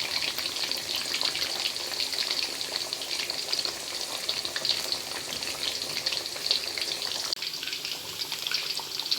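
Food frying over low heat in oil for a Hajj dinner, a steady close crackle and hiss running unbroken throughout with faint watery bubbling and no voices.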